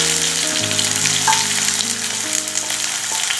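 Onions fry in hot coconut oil with popped mustard seeds, giving a steady, close sizzle with a clattering stir partway through. No one speaks.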